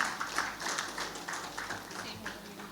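Crowd applause fills a panel event hall, a steady wash of many hands clapping at moderate volume throughout, welcoming a speaker to the stage.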